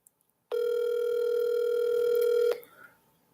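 A telephone rings out while a call is placed, one long steady electronic tone lasting about two seconds, loud and close, then cutting off into quiet.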